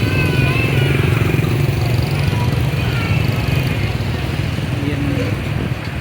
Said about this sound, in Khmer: ឃើញមានម៉ូតូឡានច្រើនចង់ស្ទះចរាចរណ៍